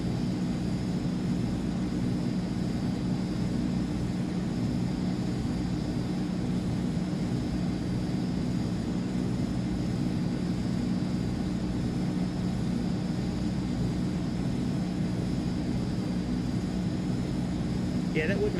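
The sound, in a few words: PMDG Boeing 777 engines while taxiing, flight simulator game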